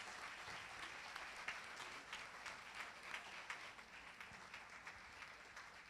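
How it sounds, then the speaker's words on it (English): An audience at a state-final debate competition in Kerala applauds the winners, a dense, sustained wash of clapping heard at moderate distance for several seconds. "Can we have a huge round of applause for the winners?"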